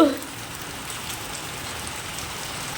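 Rain falls steadily outdoors under a cloudy sky, a soft continuous patter after a brief louder sound at the start.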